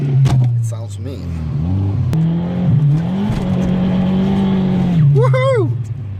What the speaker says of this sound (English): my car has just half the exhaust.